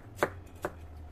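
Two crisp knife chops cut through an onion on a board using a sharp knife, the strokes spaced about half a second apart and close by, with a quiet low hum beneath.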